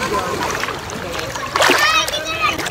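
A person jumps into the sea with a single loud splash of water close by, with children's voices and chatter around it.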